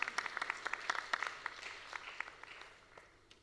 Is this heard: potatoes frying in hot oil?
no